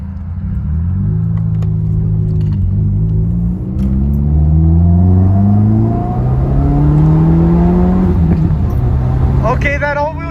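A Subaru WRX with a Remark axleback exhaust accelerates with a deep, throaty rumble that climbs through the revs, loud and close from inside the car, with a voice briefly speaking near the end.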